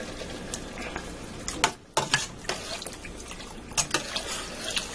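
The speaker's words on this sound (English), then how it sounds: "there goes 4 cups of beef broth in there" Four cups of beef broth poured from a box into a soup pot for Italian sausage soup, a steady liquid splash with a few brief clunks of the carton, close and fairly quiet.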